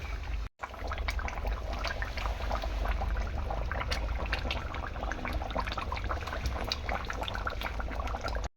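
Mutton curry with potatoes bubbles in a pot, a soft continuous simmer with scattered small pops and bursts, close and fairly quiet, with no talking.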